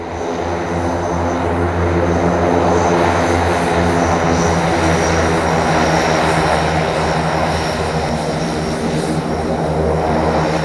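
A military propeller airplane drones steadily and loudly throughout paratrooper training for special forces, a continuous engine roar with no pauses or talk.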